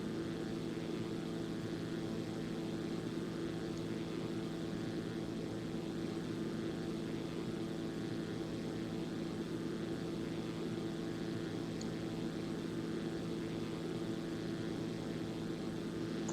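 A Zlin Z-142 propeller plane in X-Plane 11, flying over the French Alps toward Courchevel, with a steady droning engine hum and a constant propeller buzz that continue unbroken throughout, heard alone.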